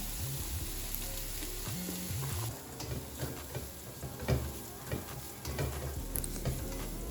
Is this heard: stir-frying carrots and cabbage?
yes